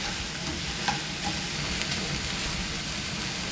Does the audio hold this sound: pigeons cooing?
no